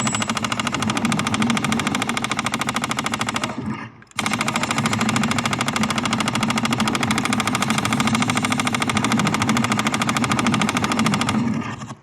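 An arcade machine-gun game's solenoid-driven gun fires in a loud, rapid, continuous mechanical rattle, breaks off briefly, then resumes at full intensity.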